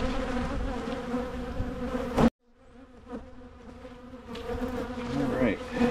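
Honeybees swarm around an open hive during a spring inspection, a loud, dense, close buzzing drone that drops out briefly then swells back, with occasional handling noises.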